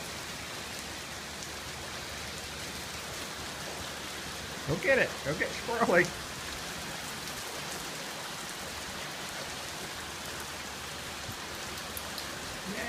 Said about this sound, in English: Let's go see the rain.